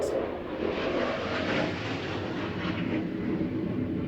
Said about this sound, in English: If you just heard that plane because it was very loud here, it's because it's Labor Day weekend and the air show is going to be happening